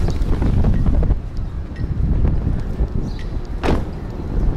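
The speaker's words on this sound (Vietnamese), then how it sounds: "Gió quá chừng gió luôn." Strong wind buffets a microphone outdoors on a street in District One, a loud, continuous rumbling roar that surges and gusts for several seconds.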